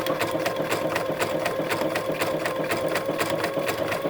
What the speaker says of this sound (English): So then you would continue sewing.